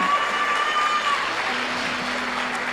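A church congregation at a conference session applauds, with crowd clapping and cheering spread across the hall over sustained musical tones.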